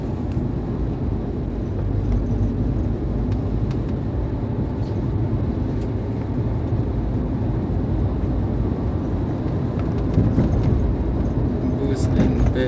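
Steady road rumble from riding behind an NPM intercity bus on the eastern trans-Sumatra highway between Palembang and Betung, a continuous broadband drone from start to finish with no breaks.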